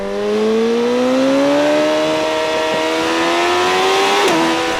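A 2012 BMW S1000RR on the track pulls hard in one gear, its engine note climbing smoothly in pitch for several seconds before a sharp quickshifter change drops it, loud and close with no voices.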